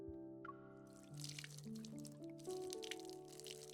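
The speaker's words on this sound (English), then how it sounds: "Cool water continuously seeps into the soil and reaches my roots" Water drips in clear, distinct drops over a soft, sustained musical tone, a close and gentle trickling that suggests moisture seeping into soil.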